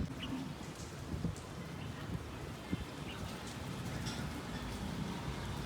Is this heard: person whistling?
no